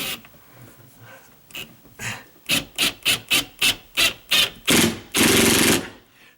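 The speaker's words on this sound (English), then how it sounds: "This is called an impact drill, and it's supposed to do that." A cordless impact drill drives a screw into a drywall anchor, hammering in a rapid series of sharp, close bursts that build into one long sustained rattle near the end, after some quieter handling noise.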